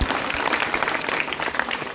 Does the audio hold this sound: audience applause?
yes